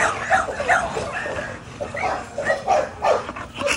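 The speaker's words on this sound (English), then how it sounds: "I know it's gonna make all the dogs bark though." Several dogs, American Bully types, bark and yip in a busy cluster of short, mid-loud calls spread across the clip, with a person's voice mixed in underneath.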